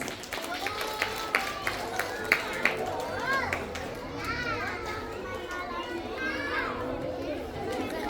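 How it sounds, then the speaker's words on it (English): An audience at a school Kukur Tihar celebration applauds with a run of sharp claps, mixed with children shouting and chattering in a lively, noisy room. "Let's welcome her with a huge round of applause."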